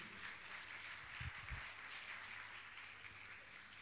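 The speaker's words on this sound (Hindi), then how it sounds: "तालियां बजती ही रहना चाहिए।" Audience applause at a Jain religious gathering with a monk's discourse, steady, fairly faint clapping continuing throughout with a low hum underneath and a couple of louder thumps midway.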